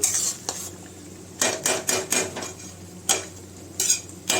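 A spoon scrapes and knocks against a pan as masala with peas is stirred and fried, a string of sharp clattering strokes over a faint sizzle with uneven pauses.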